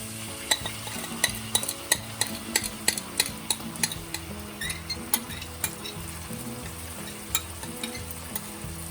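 Onions and chilies fry in a pot as sauces are poured in and stirred, giving a steady close sizzle broken by repeated sharp scrapes and clinks of a utensil against the pot, with no talking.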